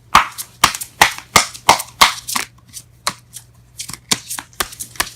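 Tarot cards shuffled by hand in a quick run of sharp riffling bursts, about a dozen crisp slaps and flutters at an uneven rhythm, close and fairly loud with a steady low hum beneath.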